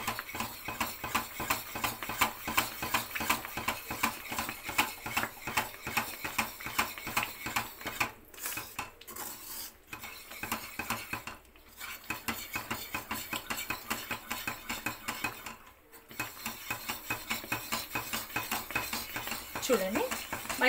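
A Mysore pak mixture is worked in a pan on medium heat with a fast, continuous metallic scraping and clinking of a spoon against the pan. The rhythm is rapid, close and repetitive and breaks off briefly a few times.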